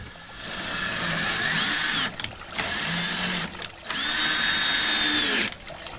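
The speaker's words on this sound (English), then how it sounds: "So then what we can do now is drill that right into the beam." A power drill runs in long whirring bursts with short pauses, driving a screw into a wooden beam for a front door overhang awning, close and loud, with the motor pitch shifting as the screw seats.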